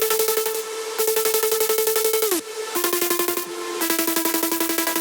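A bright synth lead in a melodic drum and bass track plays a steady rhythmic pattern of repeated notes without pitch automation, holding flat pitches with a few note changes, loud and alone.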